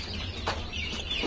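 Chickens at a farm chicken coop, several close clucks and short squawks over a brief stretch, with the birds sounding near and fairly loud against a steady low background hum.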